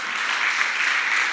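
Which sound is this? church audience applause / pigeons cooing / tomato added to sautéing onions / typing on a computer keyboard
church audience applause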